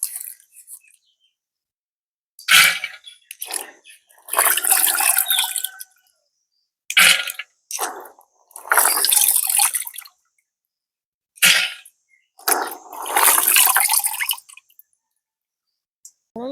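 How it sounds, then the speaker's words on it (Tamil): Bursts of running water splash and gush in separate spells, with quiet pauses between them, close by and fairly loud. "நல்ல வடிவாக தண்ணி விட்டு ரெண்டு மூணு தடவை வடிவாக இலசி கழுவோம்"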